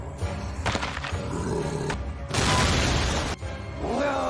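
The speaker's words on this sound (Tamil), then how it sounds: "ஏதோ பெரிய மான்ஸ்டர் வர மாதிரியான சவுண்டு கேட்குது" A big monster, the Cobalt King, roaring in an anime, heard as loud, rumbling roars with booming, crashing bursts in between, close and dominant, with no speech over it.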